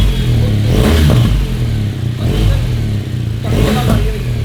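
A classic-styled motorcycle with a fitted exhaust is revved up close. Its engine note is loud and throaty, swelling and easing in repeated surges.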